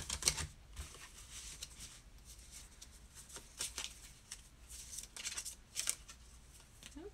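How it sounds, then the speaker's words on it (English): Tarot cards being shuffled by hand, a run of quiet papery riffles and soft slaps in irregular bursts, close and faint, with no talking. "So let me just do some shuffling and see what we can get for you, Lupe."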